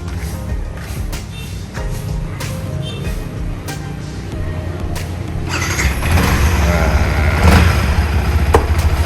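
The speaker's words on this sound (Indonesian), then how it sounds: "Ini suara mesinnya masih halus, masih keluar dari dealer." A nearly new Yamaha WR155 trail motorcycle engine runs close by, a steady low idle with faint clicks over it that rises to a louder, rougher rev near the end.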